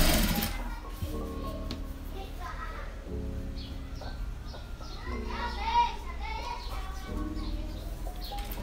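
A sewing machine stitches a delicate border onto a cloth diaper, running in steady stretches with brief pauses, while birds and children's voices carry faintly in the background.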